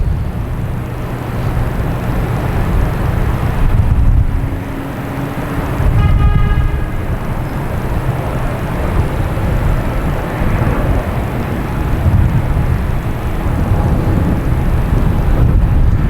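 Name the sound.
Delta airliner coming in to land at Boston Logan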